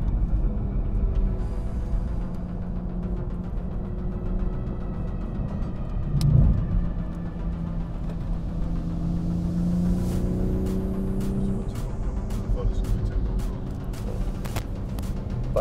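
A Toyota Supra race car pulls away at Le Mans with a steady engine drone and changing tones, heard from inside the car, plus a brief knock partway through.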